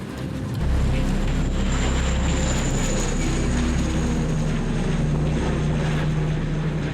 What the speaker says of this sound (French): Les avions en profitent pour frapper fort.